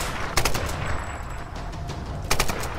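Rapid bursts of gunfire from the Tomb Raider video game ring out in two short volleys over a steady background rumble, loud and close.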